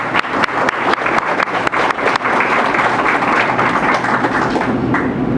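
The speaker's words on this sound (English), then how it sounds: "we could just give them a round of applause" Audience applause at a college graduation ceremony, a dense steady wash of clapping with some sharper individual claps near the start, loud and continuous throughout.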